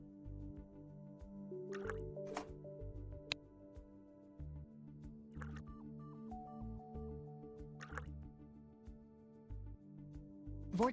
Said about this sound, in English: Add water to one tube and hexane to the other.